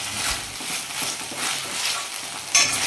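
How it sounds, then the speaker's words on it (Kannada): Onions and ginger garlic paste sizzle in a hot frying pan as they are stirred, a steady close hiss with soft scraping swells and a brief clink near the end, no voices. "ಚೆನ್ನಾಗಿ ಮಿಕ್ಸ್ ಮಾಡ್ಕೊಳ್ಳೋಣ."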